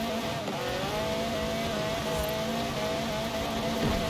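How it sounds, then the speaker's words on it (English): Several cars in the racing game Forza Horizon 4 run their engines together, a continuous layered drone with wavering pitch from revving, steady and moderately loud with no voices. "That's a lot of engine sounds right there."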